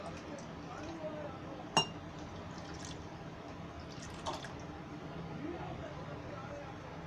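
A metal lid lands on a cooking pot of misal with one sharp clink, followed later by a fainter clatter, set against quiet kitchen background noise.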